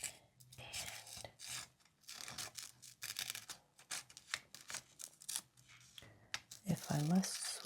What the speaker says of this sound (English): the big scissors again.